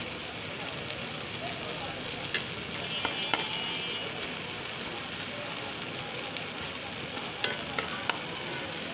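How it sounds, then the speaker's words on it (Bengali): Spices with chili powder sizzle in a pan while being stirred for a pabda fish curry, a soft, steady frying hiss broken by a few light spoon clicks against the pan. "বেশ কিছুক্ষণ ধরে নেড়ে চেড়ে আমরা এটা কষিয়ে নেব"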